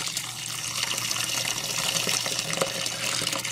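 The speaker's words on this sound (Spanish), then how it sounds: "Yo las lavo a mano, a cepillo. Con el cepillo. Le echo jabón." White socks are washed by hand with soap and a brush, with steady running and splashing water from a tap or sink that fills the whole stretch at a constant level, and no voices.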